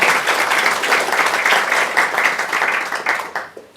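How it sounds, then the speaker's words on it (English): A conference audience claps for panel speakers at a policy discussion on democracy and autocracy, a dense, loud burst of applause that fades out at the end. "Let's give them a clap."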